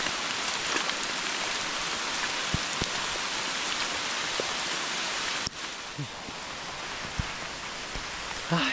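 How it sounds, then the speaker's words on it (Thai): Steady rain falls on a small hut in a forest, a dense, even hiss of drops with scattered louder taps on nearby surfaces, continuous throughout with a slight drop in level partway. "ฝนตก"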